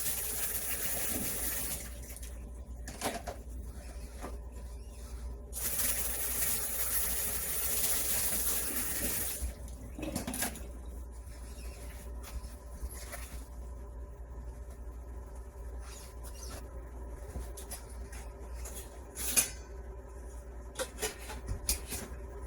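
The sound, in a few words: pot of water coming to a boil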